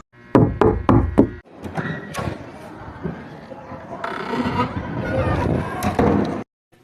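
A door-knock effect for a radio drama: a quick run of four sharp, close knocks, followed by a busier, muffled stretch of background sound.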